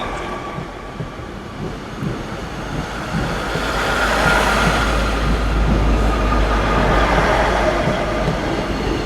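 Class 156 diesel multiple unit 156460 pulling out of Manchester Piccadilly, a loud, steady rail rumble with a deep engine drone that swells and holds as it departs, no voices.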